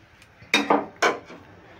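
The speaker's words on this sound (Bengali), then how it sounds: "আমি তেলটা এভাবে নেড়ে নিচ্ছি।" A metal utensil scraping and knocking against a wok while hot oil is stirred before frying a fish head: a few sharp close clanks and scrapes in quick succession, with no talk.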